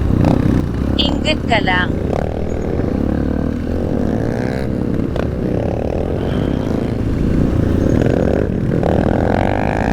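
A KTM 450cc dirt bike engine runs loud and close, with a rough mid-pitched drone and slight revving on a trail, while people talk over it.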